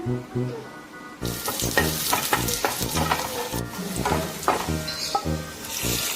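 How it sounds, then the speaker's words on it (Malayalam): Shallots and curry leaves frying in coconut oil for a dried fish curry tempering, with a loud crackling sizzle that swells sharply and carries on with bursts of popping, along with a background melody. "ചെറിയ ഉള്ളിയും കറിവേപ്പിലയും കൂടിയും വെളിച്ചെണ്ണയിൽ നന്നായിട്ട് മുപ്പിച്ചെടുക്കണേ"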